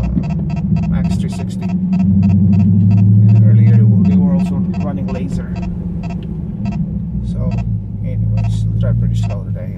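A Dodge Charger Scat Pack, just back on the road after a water pump replacement, gives a steady low engine rumble while driving, swelling louder for a few seconds midway, with a person talking over it throughout.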